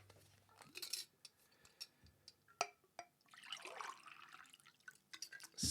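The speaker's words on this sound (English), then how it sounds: "I need to drink some more water" Water being drunk from a glass at a desk, with close sips, small liquid drips and a longer gulping, sloshing stretch near the end, fairly quiet and with no talking.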